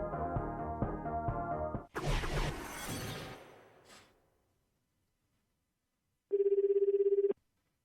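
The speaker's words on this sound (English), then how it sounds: "there was no proof that the melody I was hearing was from Nanami's phone" A phone ringtone melody from the video game Chaos;Head NoAH plays with layered musical notes, broken off by a sharp shattering burst. After a silence, a steady buzzing electronic ring pulses for about a second.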